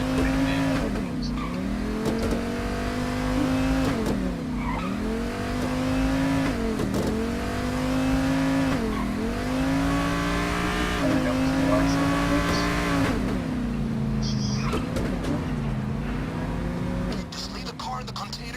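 Car engine in the video game Payday, revving and driving with repeated rising and falling pitch sweeps as it accelerates and shifts, loud and steady throughout with brief tire noise near the end.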